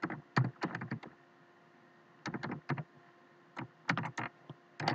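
Quick bursts of keystrokes on a computer keyboard while C code is typed, several clusters of close, crisp clicks separated by short pauses.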